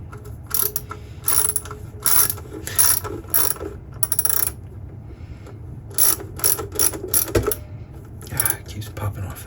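A ratchet clicks in quick bursts of rapid pawl ticks while a magnet charger is tightened, the bursts separated by short pauses, close and fairly loud over a low background hum.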